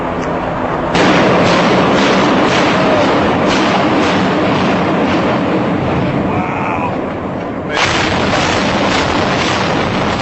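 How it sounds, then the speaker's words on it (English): Classic controlled demolition of a building with explosions at the base: sharp booming bursts near the start and again late on, set against a continuous heavy rumbling roar throughout. "Here is a classic controlled demolition"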